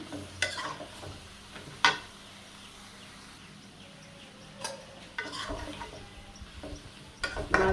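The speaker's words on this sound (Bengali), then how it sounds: "আমি এবার শিমগুলো দিয়ে দিলাম। শিমগুলো কষাই নেব।" Flat beans stir-fried in a pan for a curry with snakehead fish, giving a steady low sizzle with a few sharp clacks of a utensil against the pan.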